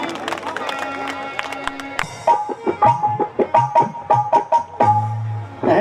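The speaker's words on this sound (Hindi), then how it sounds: "ताली मार दो भाई, जोरदार ताली" Audience at a Haryanvi Ramayana story performance clapping in short bursts alongside music and a voice, a lively mix of claps, instruments and singing at close range.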